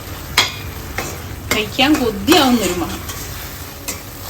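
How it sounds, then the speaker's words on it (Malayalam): Navara rice roasting in ghee in a pan, stirred with a spoon for payasam: scraping stirring strokes over a soft steady sizzle, with a voice speaking briefly over part of it. "ഈ നെയ്യിൽ വയറ്റുന്ന തുളസിയിലെ അരിയൊക്കെ വയറ്റുമ്പോൾ വല്ലാത്തൊരു മണം"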